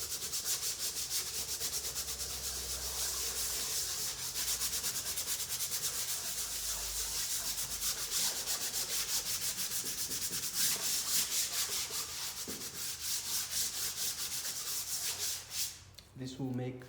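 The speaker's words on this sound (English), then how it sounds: "by using some sandpaper, in this case I'm using the 240, just scratch it a little bit" Sandpaper of 240 grit rubs across a painted surface, making a steady, close, raspy scratching that continues throughout, with a brief change in stroke near the end.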